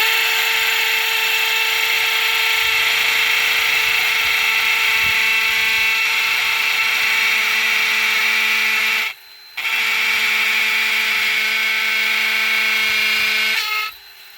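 Ridgid sub compact hammer drill with a small masonry bit boring through thick brick: a loud, steady high-pitched whine with grinding rasp, briefly cutting out near the middle before resuming and stopping at the end.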